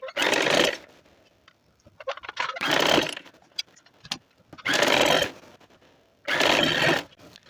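A sewing machine runs in four loud, close bursts of rapid stitching along a trouser or palazzo pant side seam, with quieter handling and fabric rustle between runs.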